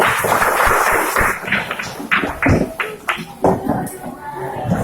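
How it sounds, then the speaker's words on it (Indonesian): Students clap together in a lively primary classroom, loud sharp irregular hand claps close by, with children's voices and chatter mixed in. "Oke, habis. Tepuk tangannya"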